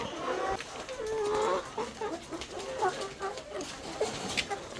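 Chickens cluck and murmur nearby in a steady stream of short calls, with a faint rustling background and no talking.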